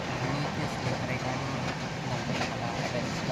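A sleeper express train pulls into a station at night on an Andhra-to-Delhi journey, a steady broad rumble of rolling coaches and platform noise with a voice talking over it.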